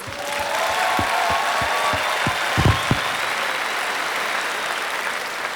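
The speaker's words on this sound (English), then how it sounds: "Give them a round of applause." Audience applause at a pageant in Lake Tahoe, Nevada fills the space, steady and sustained, with a few sharper low thumps and some faint tonal background sounds running beneath.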